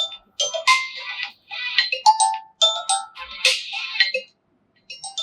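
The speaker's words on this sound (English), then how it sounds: "Now you can select the specific ringtone for this contact." A ringtone plays on a Vivo Y200 phone, a bright melodic tune of quick repeated chiming notes in several phrases with short gaps, loud and close with no talking.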